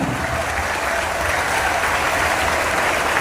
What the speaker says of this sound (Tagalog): Isang malakas na palakpak para sa mga magulang.